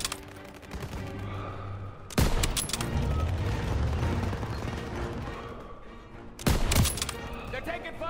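A World War II street battle in Call of Duty WW2, with rolling gunfire and rumbling explosions throughout and two loud, close blasts standing out from the constant combat noise.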